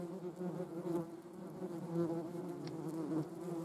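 Wasps and hornets buzzing in flight near at hand, a steady droning hum with shifting pitch as the insects move about, continuous with no talk.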